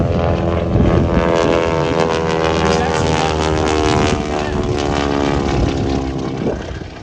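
A propeller airplane engine at an airshow at Arnold Palmer Airport drones steadily and loudly, with a rough buzzing hum that holds throughout and eases slightly near the end.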